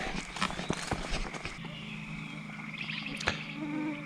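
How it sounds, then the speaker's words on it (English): Swarming mosquitoes buzz around a car at a campsite in Schoolcraft State Park, northern Minnesota, a thin, high whine close to the microphone with a few louder passes over a low steady hum. "Whereas before there was no mosquitoes, now they're swarmed by them out here."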